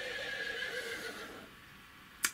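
A person aboard a canal boat imitates a horse with a single drawn-out whinny lasting over a second, followed by a quiet pause and one short sharp click.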